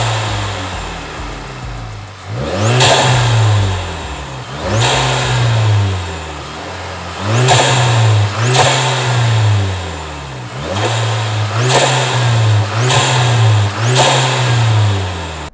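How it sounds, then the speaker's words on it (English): A Volkswagen MK6 GTI with a stock soft rev limiter at 4000 rpm is blipped repeatedly. About seven sharp revs rise and fall back to idle, loud and close, with intake noise and no talking. "I don't have a tune yet, so the car still has a stock 4000 rev limiter, soft limiter, whatever they call it. So it's only gonna rev up to 4k"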